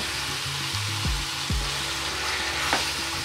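Aubergine and potato mash frying in a pan gives a steady, close sizzle with a few scraping stirs of a spatula across the pan, continuous and loud with no voices.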